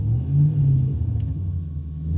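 A Chevy truck engine revs up and holds as the gas pedal is pressed, a steady low rumble that swells early and stays fairly even, heard close without any talking.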